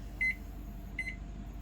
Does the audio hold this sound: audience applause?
no